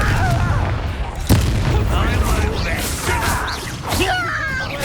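Blasting impacts from the Confringo spell during combat in the video game Hogwarts Legacy, with heavy booms and whooshes under a voice.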